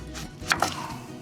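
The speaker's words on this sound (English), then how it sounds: "Abby likes her onions finely chopped" A knife chops onion finely on a board while tacos are made in a truck bed, giving two sharp nearby cuts in a short, quiet moment.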